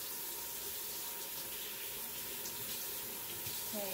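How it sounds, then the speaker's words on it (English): Tap water runs steadily into a sink while rice is rinsed for coconut sticky rice cakes, a constant even hiss and splash with no talking. "just wash it with room temperature water, not hot water"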